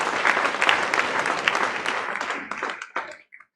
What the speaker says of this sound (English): How about that for applause?